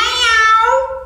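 A mimicry artist voices a cat's meow: one drawn-out, tonal mew that starts bright, sinks lower and trails off. It sounds close and clear, and no one talks.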